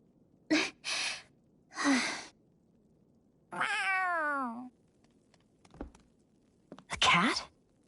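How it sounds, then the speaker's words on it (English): A cat in the video game Tales of Arise gives several short meows and one long, wavering drawn-out cry, spaced with pauses and heard alone at moderate loudness. "A cat? Where'd it come from?"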